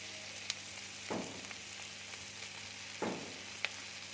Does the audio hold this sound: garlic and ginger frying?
yes